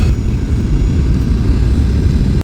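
A Boeing 737 airliner descends on approach to Wellington Airport, heard from inside the cabin as a loud, steady low engine roar and rushing air, continuous throughout before ending abruptly.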